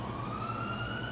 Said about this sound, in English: Do y'all hear the ambulance?